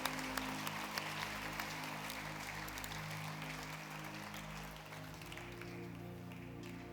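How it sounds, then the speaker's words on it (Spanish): A church congregation applauds through a worship service, steady clapping from the whole room with low sustained organ or keyboard tones underneath, easing slightly near the end. "Vamos a darle un aplauso a nuestro Dios."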